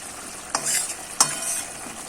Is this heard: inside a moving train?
no